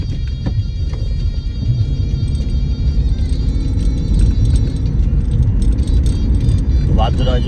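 A car rumbles past on a road in Sicily, Italy, amid steady wind and rain noise, with people talking over it.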